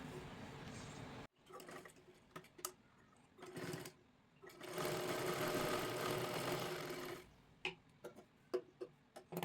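A sewing machine runs in bursts while stitching a princess blouse, with short stop-start runs, one long steady whir in the middle, and brief clicks between passes, close and fairly quiet.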